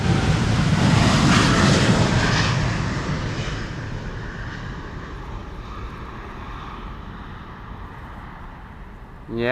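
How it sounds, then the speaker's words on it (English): KLM Boeing 787-10 Dreamliner jet taking off from Amsterdam's Polderbaan runway, a broad roaring engine rumble that swells loud early on, then slowly fades into the distance as the aircraft climbs away. "a 787-10 Dreamliner."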